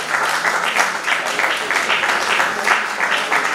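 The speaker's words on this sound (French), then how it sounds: "la maman on l'applaudit" Steady applause from a crowd at an 83rd birthday celebration, continuous clapping that fills the whole stretch at a fairly loud, even level.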